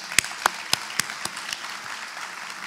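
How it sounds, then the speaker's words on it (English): Applause for the Master of Ceremonies at the Scottsdale Forward 2017 event, a few distinct loud claps spaced evenly at first, then trailing into a faint, thinner patter of scattered clapping. "so we can give you a round of applause for doing such a great job as Master of Ceremonies"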